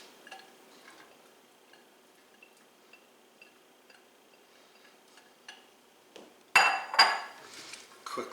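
Ground turkey is mixed into vegetables in a pan. Soft scattered taps and scrapes of a utensil come first, then a louder stretch of clattering and scraping against the pan near the end.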